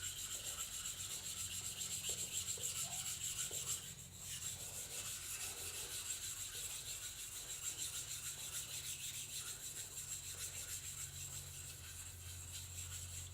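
A sharpening stone for card scraper work is rubbed flat in continuous back-and-forth gritty strokes, a close, steady abrasive scrubbing sound with a brief lull partway through.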